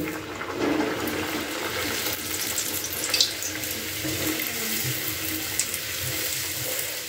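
Pea-stuffed koraishutir kochuri deep-fry in hot oil, giving a steady, close bubbling hiss with a few sharper pops and crackles scattered through it.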